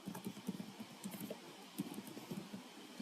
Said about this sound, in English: So I type ICT